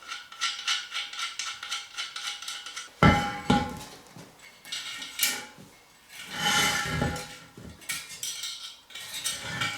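Bolts are undone on a metal lamp post base, giving close, irregular metallic clinks, rattles and knocks in short bursts with quiet gaps between them.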